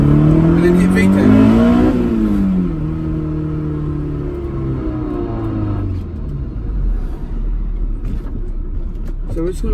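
A Honda S2000 AP1 engine rises in pitch as it revs up toward VTEC, then settles into a lower rumble under the car's cabin noise, with talk over the top.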